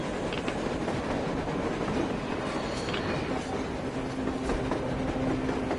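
A train rolls past on the surface in Metro Exodus, a steady rumbling wash of wheels and carriages with faint clickety-clack, continuous and fairly close for several seconds with no voices.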